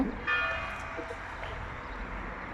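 A bell rings briefly in a quiet rural town, its faint tonal ring standing out over a low background rumble of outdoor ambience.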